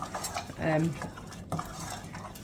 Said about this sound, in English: stir my oil around my onions just to make sure they're not going to stick to the bottom of the pan